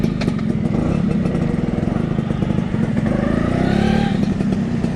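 A 1976 Vespa Super scooter on a test ride, its small two-stroke engine buzzing and puttering steadily up close with a slight rise in revs near the end, over faint road and wind noise.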